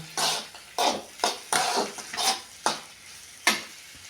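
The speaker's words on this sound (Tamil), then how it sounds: "கொஞ்சம் எண்ணெய் கொஞ்சம் ஊற்றி முன்னாடி வெண்டைக்காயை வதக்கிக்கிட்டு" Okra stir-fried in oil in a pan for a South Indian poriyal: about seven rhythmic scraping strokes of a spatula, each bursting into a sizzle, heard up close with no talking.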